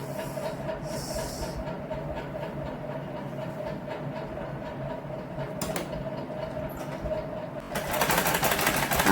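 A sewing machine stitches a vertical line on thin cloth with a fast, steady mechanical whir and clatter, close by, ending in a brief louder burst of noise.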